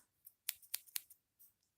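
Scissors snip crochet yarn in a series of sharp, close, quiet clicks, about five rapid cuts in under two seconds with no talking.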